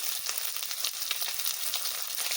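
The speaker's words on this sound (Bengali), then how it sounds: "খুব ভালো করে টমেটোর সঙ্গে মশলা কষিয়ে নেব" Raw tomatoes sautéing with salt and turmeric in a pan make a steady, close sizzle and crackle of frying that runs continuously, with no voices.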